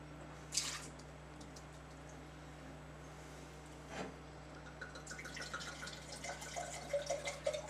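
Water runs and splashes into a wine glass during a rinse, with a soft trickling wash and gentle drips in a quiet room, faint and close, starting after a brief clink of glass.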